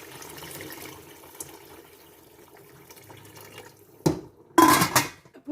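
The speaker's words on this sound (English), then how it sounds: "let's put in some of this water" Water poured into a pot of yellow split pea soup with smoked turkey tails: a quiet kitchen lull, then two short, loud, splashy gushes close by.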